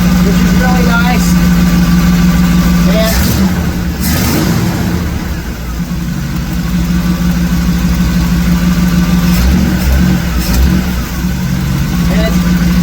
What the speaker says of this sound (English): Now this one is really idling really nicely here at this RPM, and it's pulling 18 inches of vacuum